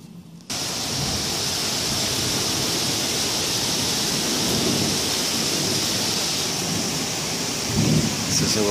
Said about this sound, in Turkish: Korkunç bir yağmur var.